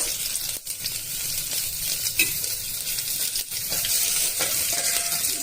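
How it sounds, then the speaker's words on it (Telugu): Onions, dried red chillies, mustard seeds, cumin and curry leaves fry in hot oil for a tomato curry, giving a loud, steady, close sizzle with a few brief stirring knocks. "ఆనియన్స్ గట్ట ఓన్లీ ఎండుమిర్చి, ఆవాలు, జీలకర్ర, కొద్దిగా కరివేపాకు వేసుకుంటామండి"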